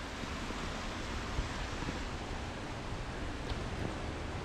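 A waterfall near an old bridge in Edzell, Scotland, pours over rocks as a steady broadband rush of water, continuous and even, with no voices.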